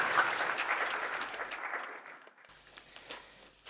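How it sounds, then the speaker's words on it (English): Applause from an audience, a steady patter of clapping that thins out partway through, then carries on more sparsely. "Please, everybody give her another round of applause."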